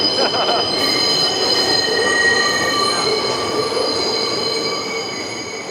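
Train rolling past on rails, loud and close, with sustained high-pitched wheel squeal ringing over a rumbling roar, faintly fading toward the end.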